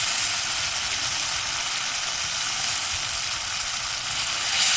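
Chopped bottle gourd sizzles steadily in hot spiced oil, village-style cooking outdoors on a riverbank, a loud, even, close-up hiss and crackle that runs continuously without talk.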